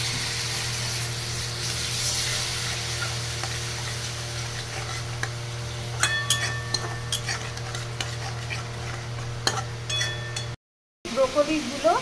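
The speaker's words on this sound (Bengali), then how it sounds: "এই মশলাটাকে একটু কষাবো, পরে একটু জল দিয়ে দেবো" Turmeric and spice masala fry in a pan with a steady sizzle, joined by occasional metallic scrapes and ticks from stirring before a short gap.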